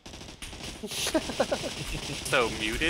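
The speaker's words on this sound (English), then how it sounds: "It's just gunfire." Bursts of automatic gunfire rattle in the video game Scum, fairly close, mixed under people talking.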